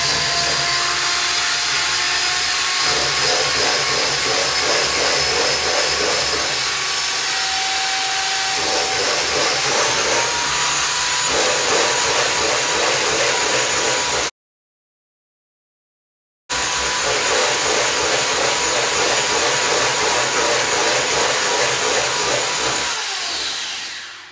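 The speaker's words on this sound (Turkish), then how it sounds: "Şöyle bir güzel çırpacağım önce." A steady electric mixer whirs continuously while whisking eggs and sugar for a chocolate cherry cake batter, loud and close, broken by one brief gap of silence before resuming.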